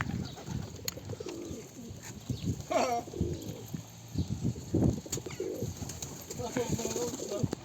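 Pigeons coo repeatedly at close range amid rustling and wing flutters, with people talking in the background.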